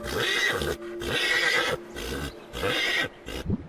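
A horse neighs in loud, shrill whinnies, repeated three or four times close up over light background music.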